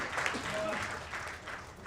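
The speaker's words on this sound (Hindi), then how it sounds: "एक बार जोरदार तालियां हमारे सितारों के लिए।" Audience applause at an album launch, a fairly quiet, distant patter of many hands clapping that runs throughout under a talking voice.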